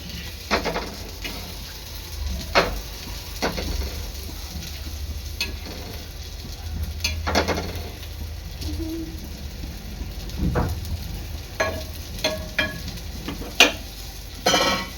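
Paneer slices shallow-fried in a pan on both sides give a low, even sizzle. Irregular utensil clicks and scrapes sound close up, with a faint bird call somewhere in the background and no talking.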